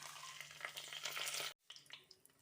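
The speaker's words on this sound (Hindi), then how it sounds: "फ्राई हो गए हमारे ये खड़े मसाले।" Whole spices (bay leaf, cloves, black peppercorns and cinnamon pieces) fry in hot oil with a faint, busy crackling sizzle that breaks off abruptly and then returns more softly with scattered pops.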